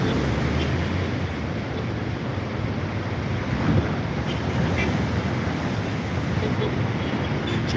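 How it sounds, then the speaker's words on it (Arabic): Sea waves wash in along the Alexandria shoreline under steady wind buffeting the microphone, a broad continuous roar with no speech. "سمعت صوت البحر من ورايا."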